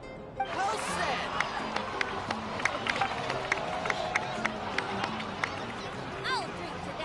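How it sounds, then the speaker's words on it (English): Crowd applause and cheering in a Genshin Impact scene: steady crowd murmur with scattered sharp claps and excited voices running throughout, mixed with talk. "please give another round of applause for them"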